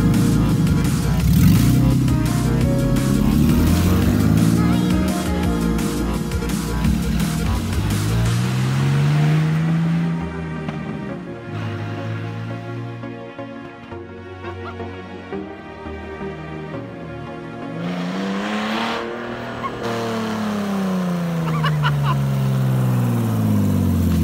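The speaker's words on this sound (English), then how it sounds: "the car does run and drive under its own power, which is a welcome surprise" A BMW E36 runs and drives under its own power, its engine note rising and falling through repeated gear changes and revs, close and fairly loud, easing off midway before pulling again.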